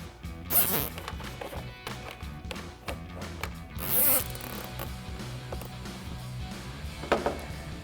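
Quiet ratcheting zip sounds come in bursts, a zip tie being pulled tight to secure wiring at the cowl of a 2018-2020 Ford F-150, with soft taps and handling noises between pulls.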